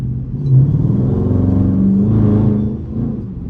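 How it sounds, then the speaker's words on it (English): A Dodge Charger R/T running in eco mode gives a loud, deep engine rumble close by. It swells briefly and then settles into a steady, throaty drone, with no talking over it. "As you can see, or as you can hear, my car is still pretty loud."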